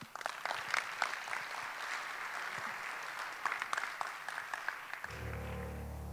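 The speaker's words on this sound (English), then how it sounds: "So a big round of applause." An audience at a tech conference closing keynote gives a sustained round of clapping, dense and even for about five seconds before it cuts off abruptly.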